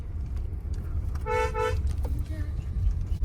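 A new car's horn honks in a steady toot lasting about half a second, standing out over loud road rumble with voices talking nearby.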